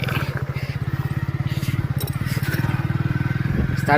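A motorbike engine pulls off at the start of a ride near Sittannavasal in Pudukkottai district, Tamil Nadu, putting out a close, loud, rapid pulsing putter under light wind buffeting that runs throughout.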